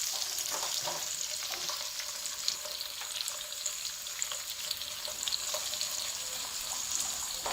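Lightly pre-fried onion browns in a pan for potato samosa filling, giving a dense, continuous crackling sizzle with occasional stirring scrapes.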